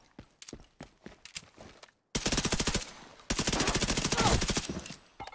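Rapid automatic gunfire in The Division 2 video game: scattered single shots first, then two long sustained bursts of fast rhythmic firing, loud and close.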